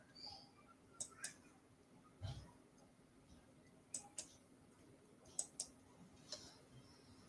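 Computer mouse clicks in a quiet room, arriving as sharp single and double taps spaced a second or two apart over a low steady hum.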